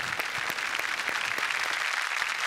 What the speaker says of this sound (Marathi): जोरदार टाळ्या झाल्या पाहिजे सगळ्यांची लाडकी अभिनेत्री नंदिता धुरी यांच्यासाठी.